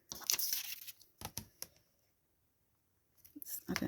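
Paper being cut with scissors while making a tag for a file folder journal: bursts of close crisp snipping and rustling, then a pause of near silence, then more cutting.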